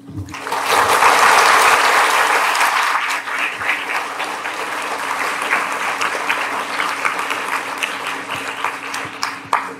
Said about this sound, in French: vous avez entendu les applaudissements